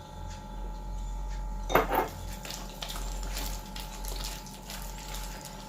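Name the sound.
whisking cake batter in a bowl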